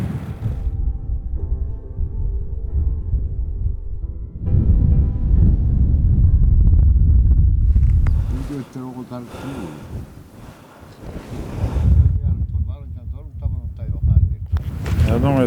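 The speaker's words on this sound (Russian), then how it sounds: "Хороший ветер, да?" Strong steppe wind in Mongolia, about 10 metres per second, roars and buffets the microphone in heavy gusts, easing and surging again, with a voice speaking briefly partway through.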